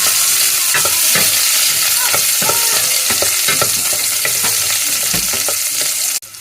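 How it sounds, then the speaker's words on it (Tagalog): Onion and garlic sautéing in a pan for sinigang, a loud, continuous sizzle broken by regular scraping stirs of a spatula, close up, with no talking. "sunod natin tong sibuyas guys ayan haluhaluin lang ulit natin"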